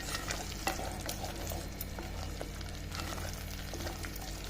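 Masala gravy for Puneri misal pav sautéing in oil in a pan, a steady low sizzle and bubbling with occasional scrapes and clinks of stirring, close and continuous with no voices.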